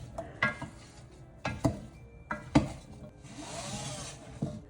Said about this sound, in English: We're going to give this a stir and let it cook for another 5 minutes.